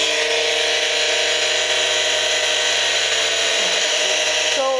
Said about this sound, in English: you get to polish your ring on the top on the big polisher